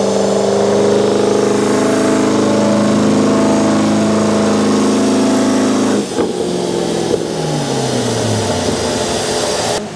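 A Volvo car engine on a dyno during a power pull holds a loud, steady high-rev drone, then cuts off sharply and winds down as the pitch falls away.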